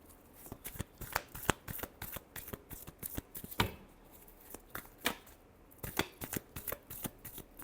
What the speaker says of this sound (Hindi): लास्ट शफल जेमिनाई के लिए।